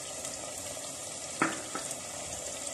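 Chicken frying in a pan sizzles steadily as spices are tipped in, with a brief louder scrape or clatter partway through and no voices.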